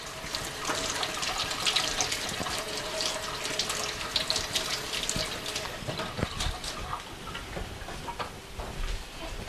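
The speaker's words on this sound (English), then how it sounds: "I'm rinsing my hands off here." Tap water runs steadily into a sink as hands are rinsed under the stream, a continuous close splashing hiss with small clinks, with no talking.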